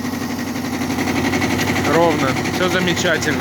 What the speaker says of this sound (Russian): двигатель весь в родной краске, работает, как вы слышите,